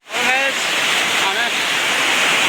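Loud, continuous rushing roar of the Bari waterfall heard up close, with a faint voice briefly audible over the steady water noise.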